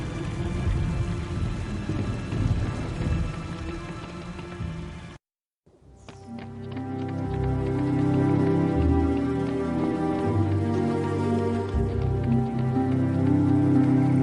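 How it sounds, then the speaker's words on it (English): Steady rain falling in the PC game Harry Potter and the Chamber of Secrets, a continuous patter and hiss that cuts out for a moment and then returns fuller, with a low rumbling undertone; no one speaks. "The rain has stopped."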